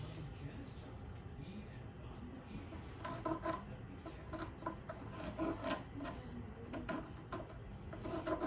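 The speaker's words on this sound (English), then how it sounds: "I'm just going to trace this out on this piece of wood here." A pencil traces an outline on a small piece of oak wood, giving soft, close scratching and rasping strokes in irregular bursts, fairly quiet with light background noise.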